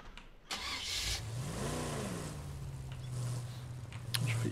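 A military vehicle engine in State of Decay 2 cranks and starts with a sharp catch, rises briefly in a rev, then settles into a steady mid-pitched idle, close and fairly loud.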